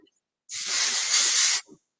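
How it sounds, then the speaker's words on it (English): A dry oil spray is misted onto hair in a single steady hiss lasting about a second, close and clear, with a brief faint puff right after. "We're going to grab my dry oil spray here"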